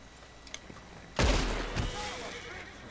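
Gunfire in the video game Red Dead Redemption: a single heavy, booming shot with a rumbling tail, a second thud close behind, preceded by a few faint clicks and ticks.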